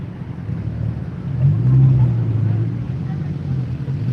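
A low engine drone swells briefly as a car rolls into a Morrisville Cars & Coffee meet, then settles back into steady rumbling background traffic, with talk over it.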